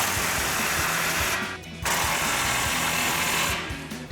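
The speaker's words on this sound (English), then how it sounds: "grab our impact 15mm socket, tighten these down" An impact wrench with a 15mm socket tightens exhaust clamps on a Silverado 1500 fitted with a Borla S-Type dual exhaust. It gives two loud, close rattling hammer bursts separated by a brief pause, with no voices.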